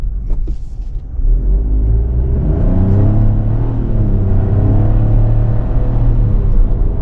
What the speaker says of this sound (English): And now we'll take off.